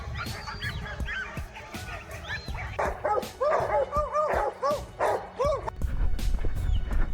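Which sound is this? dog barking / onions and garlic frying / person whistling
dog barking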